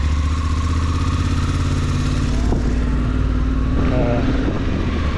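A motorcycle engine runs steadily and loudly close by, with a deep continuous rumble and a faint voice buried underneath.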